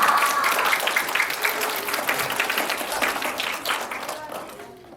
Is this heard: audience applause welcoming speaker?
yes